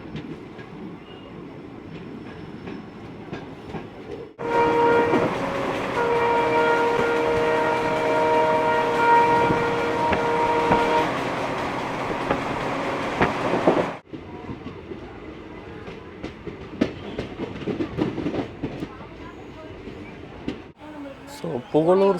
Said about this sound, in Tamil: ஸோ புகழூர் ஸ்டேஷன் வந்து ட்ரெயின் பார்த்தீங்கன்னா டிபார்ட் ஆகிடுச்சிங்க